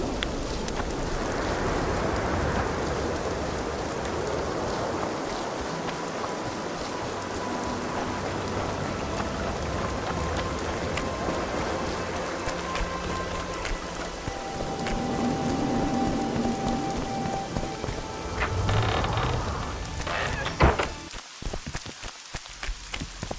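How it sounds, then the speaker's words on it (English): Steady rain in The Witcher 2: Assassins of Kings patters on surfaces, a dense continuous hiss close by, with a few brief clatters near the end. "It's raining."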